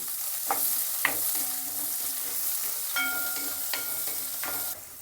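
Onion stir-fried in oil in a pan until reddish, a soft continuous sizzle with a few sharp spatula scrapes and taps, close up and without speech.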